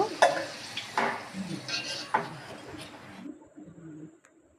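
Potato pieces coated with turmeric and salt frying in oil in a wok, with soft sizzling and a few scraping stirs of a spatula, fairly quiet, fading out toward the end.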